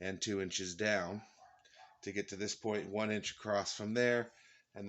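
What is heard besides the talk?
None of the usual background noises is heard.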